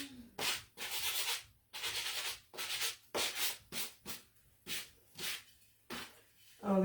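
Wooden craft pieces being sanded by hand to distress their painted edges, about ten short scraping strokes in quick bursts separated by brief pauses, close and fairly loud with no talking.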